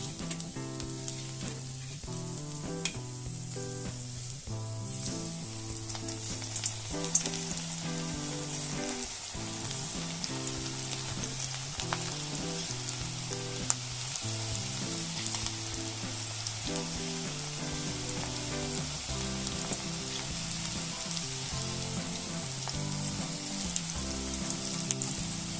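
Onion bhaji fritters fry in hot oil with a steady, even sizzle, rain-like and unbroken, heard beneath background music.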